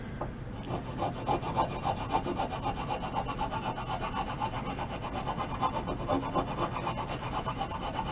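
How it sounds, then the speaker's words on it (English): A coarse rasp, then a finer file, scrapes the wood of a broken table leg under repair in steady back-and-forth strokes, close and continuous with no talking. "I'm going to actually use a file. It was really coarse, or a rasp, and this is a finer side."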